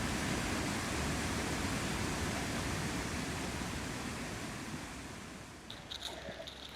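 A tall waterfall in the Lauterbrunnen valley of the Swiss Alps, its water falling past a rock tunnel, roars as a loud, steady broadband rush that eases slightly toward the end as faint clatter emerges.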